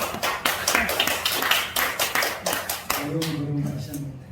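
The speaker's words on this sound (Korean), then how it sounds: "우리 본부장님 다시 한번 박수 한번 주시죠" Rhythmic group clapping from a church congregation during a sermon, a quick run of loud, evenly spaced claps that stops partway, after which a voice speaks.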